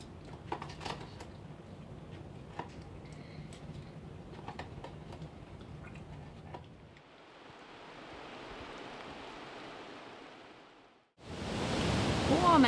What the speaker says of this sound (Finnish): Tuommoinen valkoinen kohina kuuluu tuosta koskesta taustalla.